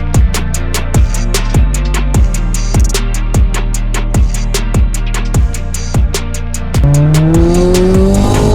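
A Ford Focus RS fitted with a big Precision Turbo NX2 drives hard, its engine revving through repeated sharp gear changes with rhythmic pulses of boost, then rising into a high whine with tire squeal at the end.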